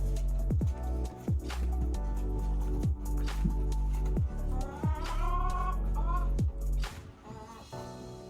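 Hens clucking inside a coop, repeated short clucks and squawks at close range over a steady background hum.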